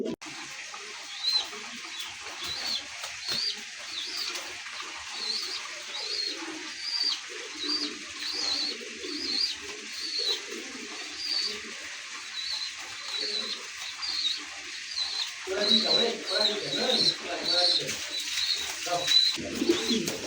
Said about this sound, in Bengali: দর্শক দেখতে পাচ্ছেন ট্রগি একটা জোড়া আছে, ইরানি ট্রগি।